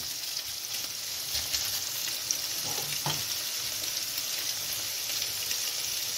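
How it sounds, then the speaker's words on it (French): Salmon frying in a pan for a fricassée with chanterelles gives a steady, moderate sizzle that runs evenly throughout, broken by a few faint stirring clicks, with no talking. "On va mettre notre saumon. Comme ça, on va commencer à le cuire."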